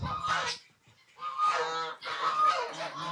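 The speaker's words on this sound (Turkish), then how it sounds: "Ve ördeklerdeyiz." Loud, nasal honking calls from waterfowl nearby, two or three drawn-out squawking bursts separated by a brief quiet gap.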